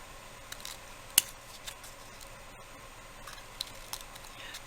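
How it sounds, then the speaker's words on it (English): Stiff scissors trim paper for faux ivory coin pendants, giving a few faint, sparse snips and clicks, one sharper cut standing out, in a quiet room. "These scissors are a little stiff."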